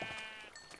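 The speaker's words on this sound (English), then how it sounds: "beat the shit out of the sheep." A single short sheep bleat from Minecraft, faint and brief, heard alone.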